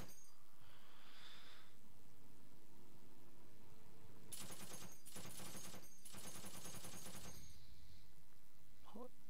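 Gunfire in the Heroes and Generals video game, two close rapid bursts of automatic fire a few seconds in, set against quiet ambient game sound.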